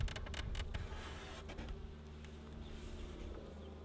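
Honey bees buzz steadily inside a hive while building comb, a continuous close drone with a few brief louder bursts near the start.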